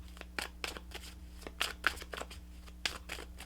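Tarot cards shuffled by hand in a series of quick riffling bursts, close and crisp, separated by brief pauses, over a steady low hum.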